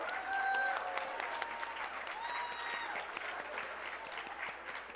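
A lecture hall audience gives sustained applause and some cheering at the start of a faculty lecture, with crowd noise and faint voices mixed into the clapping.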